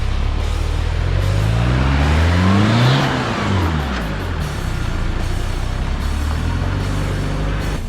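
A modified off-road vehicle with a tub chop and 16-inch air shocks climbs a big rut, its engine revving loudly and rising in pitch, then easing off, heard close and steady over about eight seconds.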